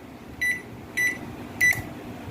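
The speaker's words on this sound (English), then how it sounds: "So let's start the microwave and see what's going to happen." A Daewoo microwave oven beeps three times as it is started during a repair check, short bright electronic tones spaced about half a second apart over a low background hum.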